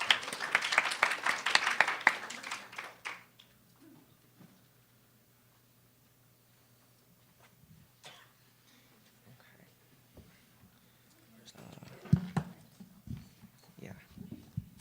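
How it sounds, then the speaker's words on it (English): Audience applause greets the final team at a nanoscience summer institute presentation: a loud burst of clapping for about three seconds that quickly dies away, followed by faint room noise and a later stretch of quiet talk. "let's give them a round of applause"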